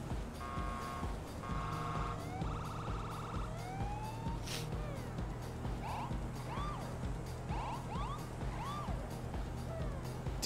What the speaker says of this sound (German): Die Sirene, Alter.